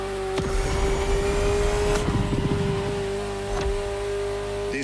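A Ferrari sports car engine in a video game drones steadily near and loud, a constant tone with brief clicks and shifts in the rumble and no talk.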